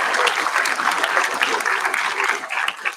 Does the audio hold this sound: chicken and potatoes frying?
no